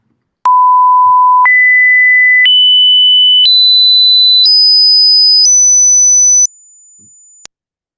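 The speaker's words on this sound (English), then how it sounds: "you can hear that it keeps going up and up in frequency because my sampling rate is enough so that I have at least two samples for every cycle of that cosine" Synthesized cosine tone sampled at 14,000 Hz, stepping upward in pitch through six even one-second stages, then a quieter seventh tone that ends with a click; clear, steady and alone with no talk.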